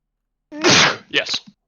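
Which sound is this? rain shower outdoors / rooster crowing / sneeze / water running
sneeze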